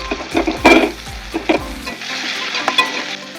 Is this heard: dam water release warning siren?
no